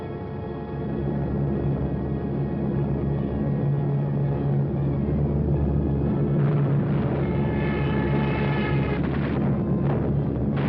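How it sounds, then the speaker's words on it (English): German bombers flying in an archival wartime film, a steady loud droning engine roar with a low rumble that persists throughout and grows slightly busier near the end. "So the Germans brought up their bombers."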